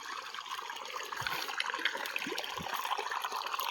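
Water draining through a large pipe, a continuous low trickling and gurgling flow that grows slightly fuller partway through, with a few soft knocks, no talking.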